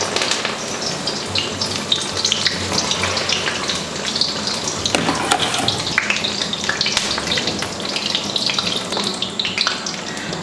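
Taro leaf wraps tied with thread bubble and crackle in hot oil, a continuous, dense, fairly loud hiss of deep-frying with no talk.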